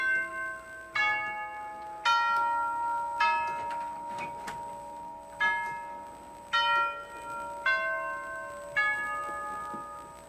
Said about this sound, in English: The wonderful doorbell chimes, which everybody loves.